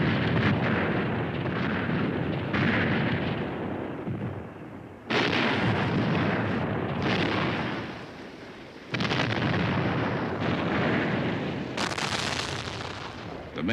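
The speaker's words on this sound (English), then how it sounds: "Communist artillery responds in a long-range duel." Artillery fire in a long-range duel during the Vietnam War: a series of loud, booming blasts arriving every few seconds, each followed by a rumbling tail that fades before the next.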